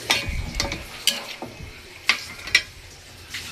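Food being stirred in a pan after soy sauce goes in, with a steady sizzle and several sharp scrapes and clinks of the utensil against the pan, close and fairly quiet.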